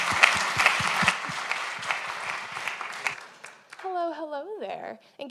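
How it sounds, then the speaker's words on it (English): Audience applause at an Open Source Day tech talk, brisk clapping from a room of people that thins out and gives way to a voice speaking near the end. "another round of applause"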